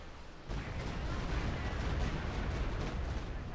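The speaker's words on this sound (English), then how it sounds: "Stukas is firing again." A Stuka rocket artillery barrage fires in the snowy Company of Heroes 2 strategy game. A dense, continuous roar of launches and impacts rises suddenly and holds steady at a moderate distance, without talk.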